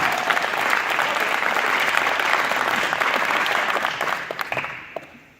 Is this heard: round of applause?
yes